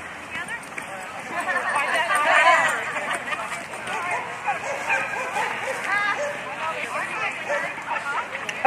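Two Fox Terrier sisters barking and yipping excitedly, rapid high-pitched yaps and whines mixed with a person talking and background noise throughout.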